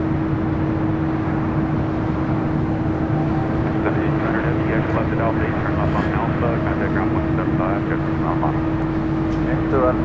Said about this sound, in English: Got that 777 freighter rolling down to 25 right.